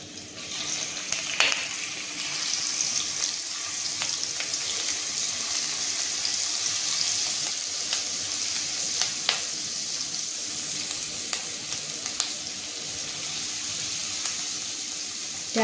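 Garlic frying in hot oil with curry leaves for spicy misal, a steady broadband sizzle with faint scattered crackles throughout, close and continuous with no voices.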